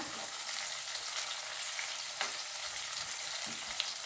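Onions sizzle steadily in hot oil for a bitter gourd curry, a dense, even frying hiss with occasional small pops and stirring clicks, close and continuous throughout.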